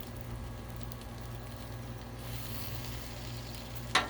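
Slices of fatty bologna fry on a flat griddle with no oil, giving a low steady sizzle throughout and a brief sharp clatter near the end.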